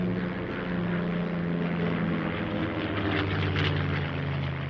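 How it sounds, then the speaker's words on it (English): Propeller engines of a WWII B-17 bomber, running on three engines with the throttles opened full, make a loud, continuous droning hum that holds steady throughout and is heard alone, without voices. "no doubt to catch up with Hutch and St John, he probably opened the throttles on his 3 remaining engines, with disastrous consequences."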